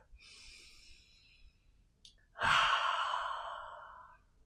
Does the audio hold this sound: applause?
no